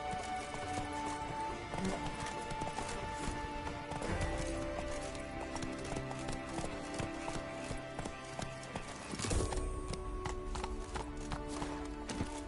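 Roach, Geralt's horse in The Witcher game, gallops with steady, quick hoof clip-clops and an occasional whinny over a continuous layer of game music, with no talking.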